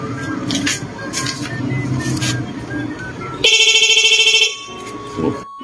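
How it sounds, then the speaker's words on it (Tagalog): After a stretch of background noise and faint talk, an electric bike's electronic horn blares loudly and continuously for about a second, shrill and buzzing, then cuts off. "At ang lupit ng busina nito"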